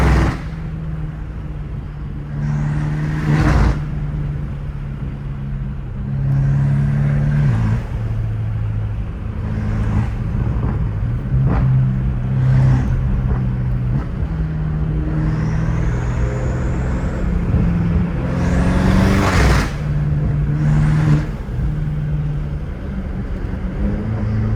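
BMW M5 Competition with turbos and a titanium catback exhaust, heard from inside, with a loud engine drone that rises and falls through gear shifts and a few sharp bursts, steady throughout.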